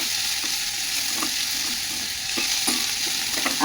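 Onions frying in a pan for Maharashtrian pitla make a continuous bright sizzle, close and steady, with periodic scraping stirs of a spatula and no talking.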